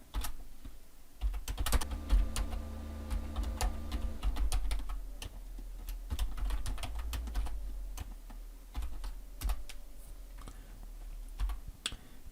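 Code typed on a computer keyboard in a quiet room, rapid irregular bursts of crisp key clicks with short pauses, near and fairly soft, alone without speech.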